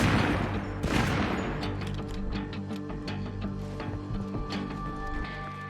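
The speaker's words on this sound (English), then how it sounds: "better start shooting those guys" Rapid bursts of video-game gunfire, shooting at enemies near a wall in a zombie survival mode, crackle in dense overlapping volleys under a loud musical soundtrack.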